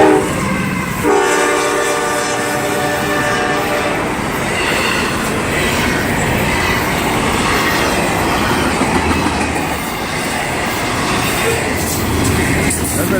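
A double-decker passenger train passes close by near Gary, sounding a long, loud horn blast early on, followed by a steady rumble and clatter of wheels on rail, with someone talking over it.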